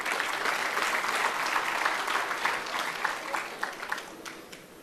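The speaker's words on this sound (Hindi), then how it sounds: "ज़ोर से तालियां बजाइए इनके लिए।" An audience at a mushaira poetry gathering in Kuwait claps loudly and steadily, with the applause thinning slightly toward the end.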